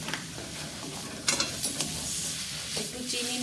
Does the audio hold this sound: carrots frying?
yes